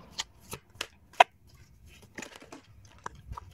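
A deck of oracle cards is riffled and handled close by, giving soft papery flicks and snaps in a loose, uneven series of quick bursts.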